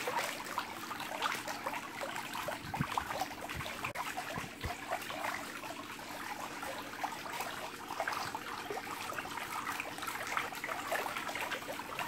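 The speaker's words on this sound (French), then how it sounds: "on oriente notre coude pour que le courant aille sauter droit afin de créer un mouvement circulaire de l'eau" Water from the return jet of an Intex pool, angled to drive a circular current, flows in a steady, even rushing trickle that carries on without a break.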